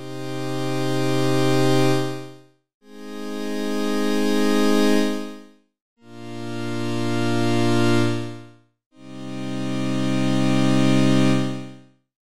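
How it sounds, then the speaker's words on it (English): Padshop 2 synth pad with a 2000 ms attack, playing four sustained chords in a row, each one swelling in slowly from silence, holding, then cutting off with a short gap before the next; rich and harmonic, alone with no talk. "change the attack time to 2000 milliseconds so the pad sound fades in when we play"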